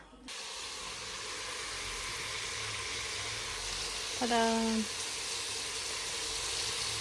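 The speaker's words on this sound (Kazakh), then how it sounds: "Қуырдақ бастап жатырмын." Meat for kuyrdak frying in a pan, a steady broadband sizzle running throughout, with a brief voiced exclamation partway through.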